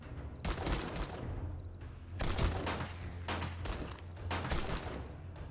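Home-made pistol fire in the survival game 7 Days to Die, a rapid string of sharp cracks in several bursts over a steady low hum, loud and close with no talk.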